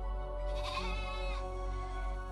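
Ewes bleat inside the Cyclops's cave, a close, wavering animal cry over a steady low background hum, with a second softer bleat following.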